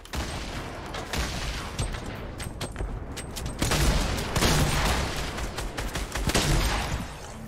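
Dense, continuous bursts of gunfire in Fortnite: Battle Royale, rapid shots and booms layered together, loud and sustained throughout with no talking.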